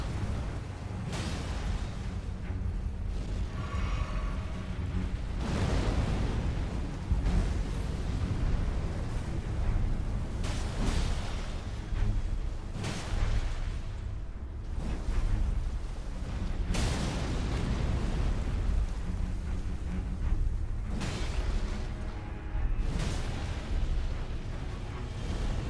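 Heavy thudding stomps and booming impacts from a boss attack in Elden Ring, repeated every few seconds amid a constant loud rumble of battle noise.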